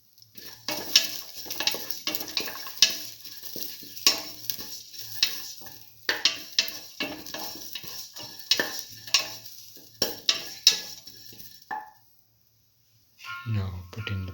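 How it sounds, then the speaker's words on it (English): Green chili sautéing in a pan for a black lentil stew: a spoon scrapes and stirs repeatedly over a low sizzle, close up, then a brief pause before stirring resumes at the end. "keep on sauteing."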